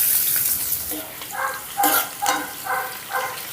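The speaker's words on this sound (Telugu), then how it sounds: "ఇప్పుడు మనం వేసిన ఉల్లిపాయ అనేది ఎక్కువగా ఫ్రై అవ్వాల్సిన అవసరం లేదండి" Sliced onion sizzles in hot oil with a tempering of dried red chillies and curry leaves, a loud steady frying hiss with recurring tonal bursts in the background.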